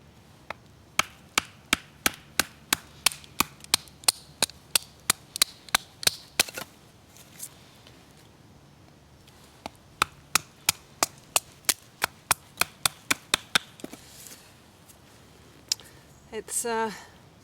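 Dead hazel wood being chopped in a damp winter woodland to process its dry insides for firewood: sharp, regular blows in two runs of about a dozen each, close and loud, with a brief crackling rustle at the end.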